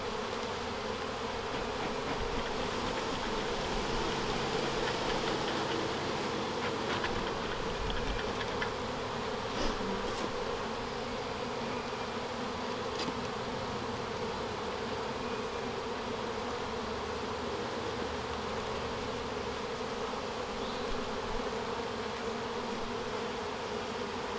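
Honeybees hum during a hive inspection, a dense, steady buzzing close by with no talk over it, and a few individual insects flying past now and then.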